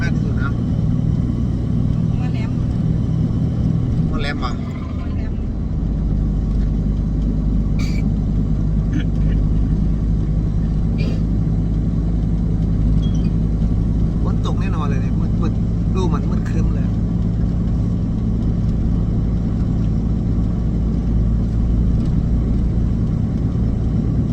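A car's steady engine and road rumble persist throughout from inside a moving vehicle on a family trip, with a second car running close behind, a constant low drone with faint scattered clicks and knocks.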